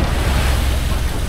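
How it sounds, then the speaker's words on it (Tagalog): Big sea waves wash around a small boat off Palawan in strong wind, a continuous loud roar of surf and rushing water with wind buffeting the microphone. "Malaki alon oh"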